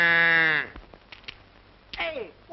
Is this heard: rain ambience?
no